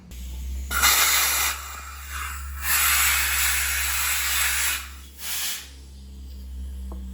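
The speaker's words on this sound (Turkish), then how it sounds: "Havayı tutup temizledik." Compressed air blasts clean a brake caliper from a Honda VFR1200F motorcycle, several loud hissing bursts of varying length close to the mic over a low steady hum.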